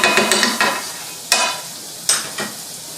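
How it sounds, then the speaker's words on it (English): A chicken cranberry sandwich on rosemary pepper bread frying in butter in a pan, with a low sizzle broken by several sharp spatula scrapes and taps against the pan, close and fairly loud, no voices. "I'm going to add a little bit of butter to this pan instead of trying to butter the bread."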